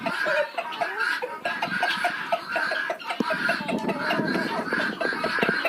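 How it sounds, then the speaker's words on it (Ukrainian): Noisy guinea fowl calling over and over, harsh chattering cries with clucking mixed in, steady and close throughout. "Цесарочки галасливі такі."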